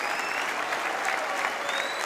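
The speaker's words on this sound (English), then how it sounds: "warm applause from the home supporters" Home supporters at a Women's Super League match between Manchester United and Reading applaud a substitution, Thomas coming on for Alessia Russo, with steady, dense stadium applause filling the clip under faint crowd murmur.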